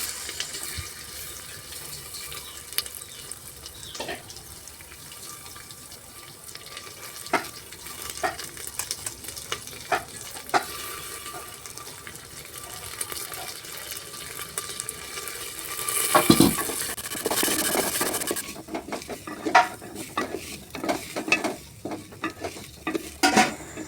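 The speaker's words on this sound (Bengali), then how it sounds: "এরপর চালটাকে ভেজে নেব।" Rice fried in a pan for payesh, with steady scraping and stirring strokes and a soft sizzle that builds to a busier burst of clatter near the end. No one speaks.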